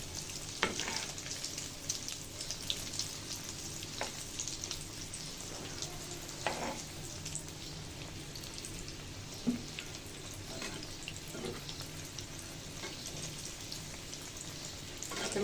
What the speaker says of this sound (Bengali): তো মিডিয়াম জাল রেখে ভেজে নিব চপগুলো